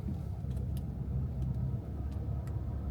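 A crash-damaged Mercedes-Benz drives off after its gearbox has been serviced, giving a steady, close, low engine rumble that stays even throughout, with a few faint ticks and no voices.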